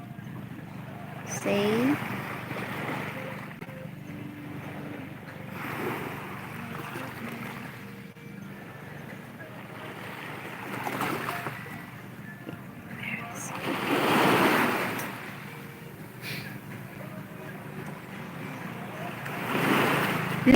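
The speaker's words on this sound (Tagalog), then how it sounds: "I think I can still hear the engine" A fishing boat engine drones far out at sea, faint and steady under strong wind buffeting, breaking waves and brief talk on a beach.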